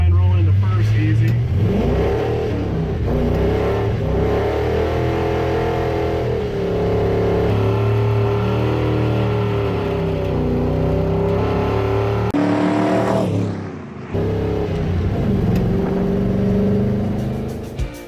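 A 1974 Ford F-100 truck with a crusty budget five-speed swap rolls into first and pulls, its engine note climbing steadily and loud nearby, with a brief dip near the end while someone talks over it.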